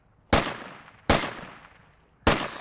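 Three separate loud shots from a Marsoc Marksman 7.62 rifle in a video game, each a sharp crack with a decaying tail, spaced unevenly about a second apart, with no voices.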